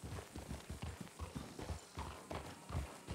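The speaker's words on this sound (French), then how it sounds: "T'as regardé les sabots de ton cheval?" Horse hooves clip-clop steadily in a western video game, an even trotting rhythm of muffled thuds, quiet and close, with no talking over it.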